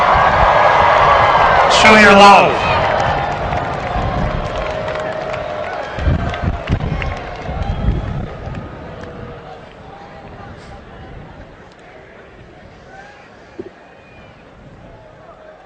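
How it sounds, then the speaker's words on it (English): A university graduation crowd at Michigan cheers and applauds for family and friends, a loud burst of clapping and shouting early on that fades over the following seconds beneath a speaker's voice. "stand up and wave and cheer your supportive family and friends"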